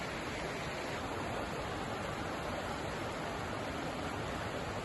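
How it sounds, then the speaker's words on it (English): Steady rush of running water at Small Falls, a waterfall in Maine's Rangeley area, a dense continuous roar that fills the whole clip with no talk. "There's something so nice and refreshing about just the sound of running water."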